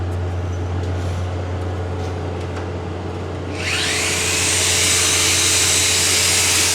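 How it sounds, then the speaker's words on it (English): An angle grinder grinding back a weld on a Volvo excavator boom cuts in partway through, a loud, steady high-pitched abrasive roar over a low constant hum. "Always good to grind back after each pass."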